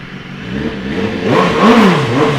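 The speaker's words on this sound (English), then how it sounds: "Yeah, give it a start up." A 2015 BMW S1000RR sport motorcycle engine fires up from cold and gives a short, moderate rev, the note rising and falling close by over about two seconds, with no talk.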